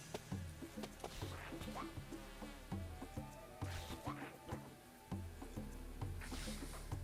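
Buzzing bees drone continuously with a pulsing, synthetic quality, layered over rhythmic electronic game music in Goosebumps: Dead of Night; no voices.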